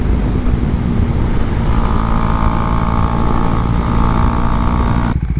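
A Husqvarna Svartpilen 401 single-cylinder motorcycle engine drones steadily as it keeps accelerating in sixth gear, loud and close from the rider's position, with wind rushing past and no talk until an abrupt cut near the end.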